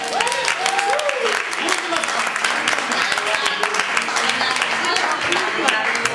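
Audience applause during a live comedy performance, steady clapping from a crowd mixed with voices and some sung or sustained vocal tones early on.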